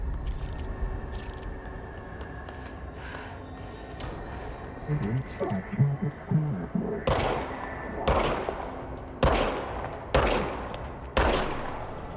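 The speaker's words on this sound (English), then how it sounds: "Now I have a gun." Gunfire from the player's weapon in the video game Control: a handful of sharp, separate shots spaced roughly a second apart, each with a short decay, over low ambient game sound and some muffled thuds.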